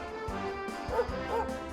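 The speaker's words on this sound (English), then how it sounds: "that bark doesn't really sound too paralyzing" A dog bark sound effect from the Dragon Quest XI video game, a few short yips over steady game music and background ambience.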